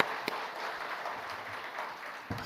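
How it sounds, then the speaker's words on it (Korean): Church congregation applause, a soft diffuse patter of many hands clapping at a distance, fairly quiet and steady throughout, with no speech over it. "박수 한번 하겠습니다."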